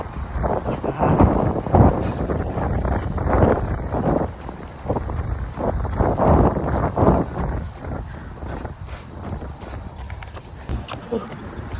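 Loud, gusty wind buffets the microphone during an outdoor run in rough, rumbling bursts, with thudding movement and a voice mixed in.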